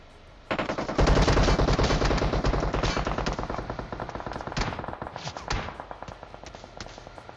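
Rapid automatic gunfire from a PUBG Mobile match bursts in loudly and rattles on for several seconds, the rhythmic shots gradually thinning out, with no talk over it.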